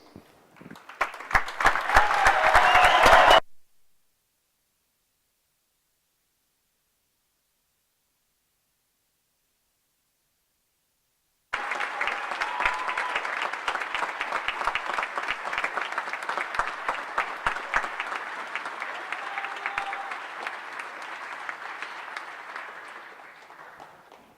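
A graduation audience for medicine and health sciences applauds in a dense, loud burst, falls silent for several seconds, then claps again in a long sustained wave that slowly fades.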